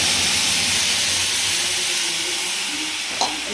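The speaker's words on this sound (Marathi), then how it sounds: "फोडणी तडतडली आहे मस्त" Spices with turmeric crackle in hot oil during tempering for a home-cooked meal, a steady close sizzling hiss that runs unbroken throughout with a small pop near the end.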